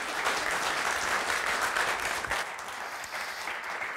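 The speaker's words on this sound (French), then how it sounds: "Vos applaudissements pour Monsieur Fred Balz." Steady audience applause during a French film quiz show, many hands clapping in a dense, continuous wash that holds at an even level and eases slightly near the end.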